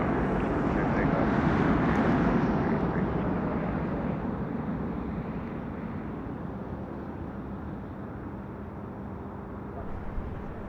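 An airliner rolls and climbs away on takeoff from runway 33 left at Toronto Pearson, a continuous broad engine roar that is loudest early and slowly fades with some wind buffeting on the microphone.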